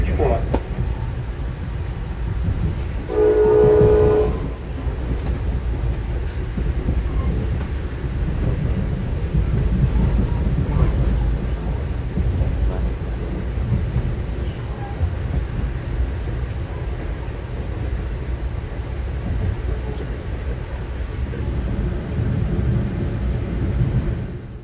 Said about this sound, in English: this is the Metro North trains we're running past